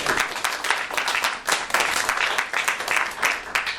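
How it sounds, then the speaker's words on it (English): A small audience at an EdTech workshop claps for a presenting group, with distinct, uneven hand claps coming in quick bursts at close range. "let's give Shanna and her group a round of applause"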